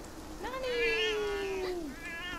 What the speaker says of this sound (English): Oh, it's a different cat!